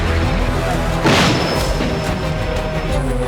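Explosions from Russian strikes on Sumy and Chernihiv in Ukraine, a loud muffled boom rising out of a dense rumbling backdrop, with faint voices mixed underneath.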